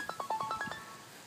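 A phone ringtone plays a quick run of about seven bright, rising electronic tones, fairly faint, then fades out with no talking.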